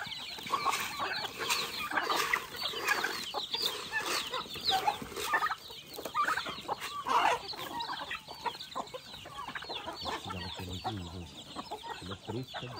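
Galinha do Pará chickens and a large spotted rooster cluck and chatter nonstop, close and busy, with faint human talk now and then beneath the flock.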